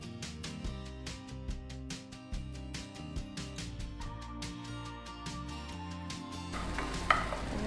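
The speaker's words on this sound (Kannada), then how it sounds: "ಈ ಗ್ರೇವಿಯನ್ನು ಸ್ವಲ್ಪ ಇದರದ್ದು ಸ್ವಲ್ಪ ಹಸಿ ವಾಸನೆ ಹೋಗ್ಲಿಕ್ಕೋಸ್ಕರ ನಾವು ಫ್ರೈ ಮಾಡ್ತೀವಿ" Gravy for a Kabul chana and soya curry fries in a pan while a spoon scrapes through it in quick, regular strokes, with a low sizzle running underneath the whole time.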